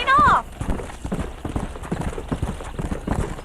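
Horse hooves clip-clop in a steady trotting rhythm in Red Dead Redemption on PS3, close and fairly loud, opening with a brief whinny and running under talk.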